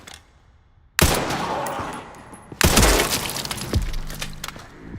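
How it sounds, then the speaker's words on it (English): Rifle fire in the survival-horror game RE9: two abrupt, loud blasts about a second and a half apart, each trailing into a long, noisy ringing tail with glassy crackle on top, out of near silence. "We'll check with the rifle too to see how the recoil is on that"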